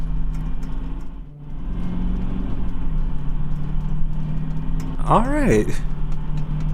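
The bus engine in the video game Desert Bus drones at a steady low hum throughout while someone talks over it, with a brief dip and a short whining pitch sweep near the end.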